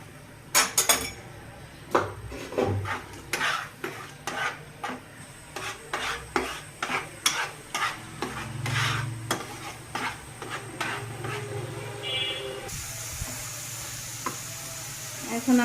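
Onion paste frying in oil in a heated pan, with a steady sizzle under repeated sharp scrapes and clinks of a spoon stirring against the metal, fairly close and moderately loud throughout.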